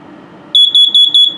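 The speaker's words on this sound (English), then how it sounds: "this is a carbon monoxide and LP gas detector here. It should always be green as it is. I'll set it off so you can hear it." A carbon monoxide and LP gas detector in a 2018 Starcraft Launch 21FBS travel trailer runs its self-test, sounding four loud, shrill, high-pitched electronic beeps in a quick even rhythm over faint background hum.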